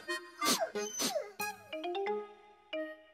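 A small brown cartoon dog barks and yips in a series of short, bright, pitched yelps with whimpering slides, close and fairly loud, alone without talk.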